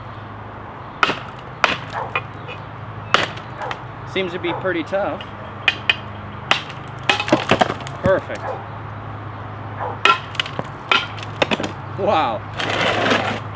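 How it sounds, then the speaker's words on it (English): Hammer blows strike a ZT 0180 knife blade in a destruction test, giving sharp, loud metallic impacts in irregular bursts, some in quick clusters, with someone talking between strikes. "See if we can get some hammer blows."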